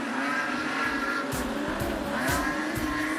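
Super Street Sedan race cars, including Ford Falcons, roaring around Rockhampton Speedway in a close pack, steady loud engine drone with tire squeal and passing surges.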